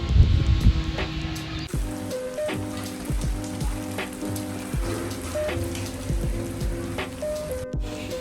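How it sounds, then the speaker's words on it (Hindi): Heavy stormy rain pours steadily over a village, a dense continuous hiss mixed with drips and patters, while a rhythmic looped music track plays loudly over it. "बहुत तूफानी बारिश हो रही है।"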